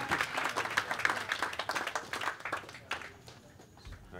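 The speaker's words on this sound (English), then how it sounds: "Round of applause for Larry, 4th place." An audience on a poker tournament cruise applauds a fourth-place finisher, giving a burst of dense clapping that thins and fades over a few seconds, moderately close.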